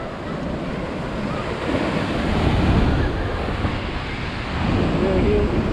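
Ocean surf rolls and washes continuously at Laguna Beach, with gusting wind buffeting the microphone and swelling in broad, loud surges.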